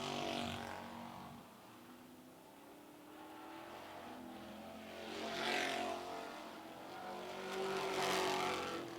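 Street stock race cars roar down the backstretch at Mt. Lawn Speedway, their engines swelling and fading as the pack passes at a distance, a continuous, moderately loud drone with no speech.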